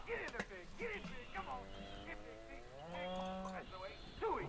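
Cattle mooing with long, drawn-out calls, several overlapping bellows, loud and close, one after another, in an episode of The Beverly Hillbillies.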